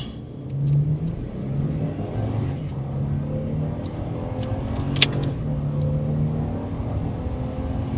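A 2025 Toyota Tundra SR5 with the TRD Rally Package accelerates hard from a launch in 4 high, its engine giving a sustained, rising roar heard from inside the cab, with a brief click partway through.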